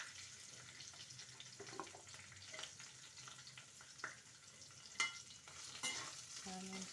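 Beans fry in a pan with a soft, faint sizzle, punctuated now and then by quiet clinks and scrapes of a spoon stirring.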